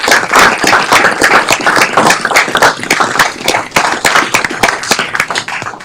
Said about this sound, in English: Another round of applause for Brandon Tolliver.